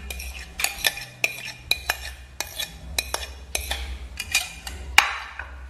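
A spoon scrapes and clinks against a bowl of sweet potato chiffon cake batter in a steady, irregular rhythm of sharp metallic taps, close and clear, with a low hum underneath.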